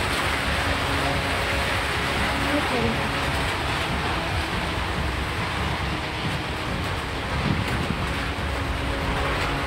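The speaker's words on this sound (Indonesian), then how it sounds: "Itu hanya angin puting." Strong tornado winds roar steadily through a whirlwind storm in North Sulawesi, a broad continuous rushing noise with a brief voice heard near the start.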